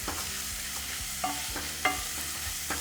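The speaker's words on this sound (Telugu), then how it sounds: "జీలకర్ర వేగిన తర్వాత ఇందులో సన్నగా తరిగి పెట్టుకున్న ఉల్లిపాయలు వేసేసుకోండి" Chopped onions fry in a little oil with cumin for paneer bhurji, a steady sizzle under repeated scraping stirs, with a few sharper spoon knocks against the pan.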